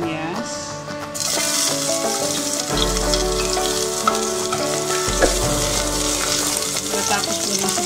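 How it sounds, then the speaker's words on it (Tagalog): Onions land in hot oil and burst into a loud, steady sizzle about a second in, frying on with a low rumble and occasional stirring sounds. "Pag mainit na yung oil, unahin natin yung sibuyas."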